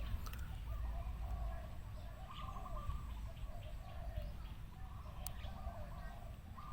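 A spotted dove coos in repeated soft phrases over a low, rumbling outdoor background, moderately distant.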